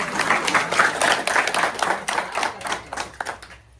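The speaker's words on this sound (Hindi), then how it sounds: "तालियां बजाओ जरा जोर से" An audience claps loudly during a religious story session, with rhythmic, somewhat unison clapping in pulses that taper off near the end.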